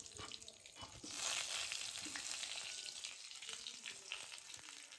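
Whole spices, curry leaves and bay leaves fry in hot oil for a Konkan-style crab curry, giving a loud, steady crackling sizzle that swells briefly early on and continues without any talk.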